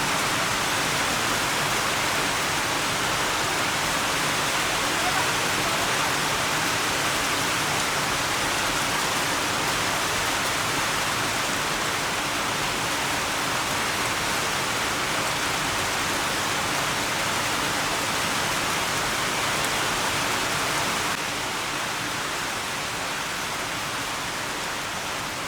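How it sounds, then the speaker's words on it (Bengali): Heavy rain falls in a steady, dense, unbroken hiss that stays loud and even throughout, with no voices over it. "কি বৃষ্টির শব্দ দেখেন"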